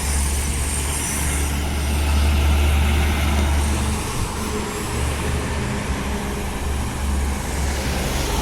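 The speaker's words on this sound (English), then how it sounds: "Let's just watch the bus go by." A Transperth bus on route 278 near High Wycombe Village Shopping Centre rumbles past close by, a loud low engine roar that peaks early and then eases into steady road noise.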